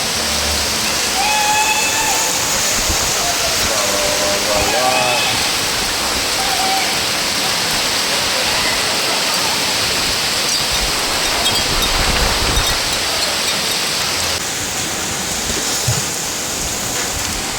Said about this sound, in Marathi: तुफान पाऊस